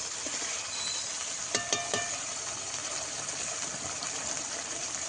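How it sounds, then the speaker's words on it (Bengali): Spiced water poured into hot oil for a Bengali pangas fish curry, giving a steady hissing, gushing sizzle throughout with a few brief sharper bursts near the middle, close and fairly loud. "মশলার জলটা দিয়ে দেবো"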